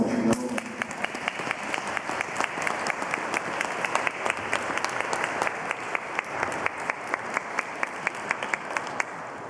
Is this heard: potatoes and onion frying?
no